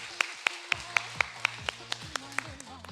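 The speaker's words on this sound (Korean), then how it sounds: "박수." Evenly paced single claps from a group at a senior exercise class, about ten sharp beats in a steady rhythm, close and clear, following a spoken count.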